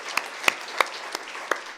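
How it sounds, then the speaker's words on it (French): A handful of separate handclaps from an audience at a forum on diversity and anti-discrimination, sparse and fairly quiet, with gaps between claps rather than sustained applause. "Je pense qu'une bonne main d'applaudissement est un peu de mise."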